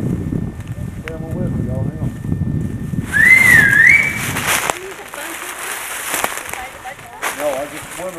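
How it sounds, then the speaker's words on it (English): A person whistles a short rising-and-falling tune outdoors, heard over wind noise, with rustling and muffled talk around it. "That's what that whistling was about"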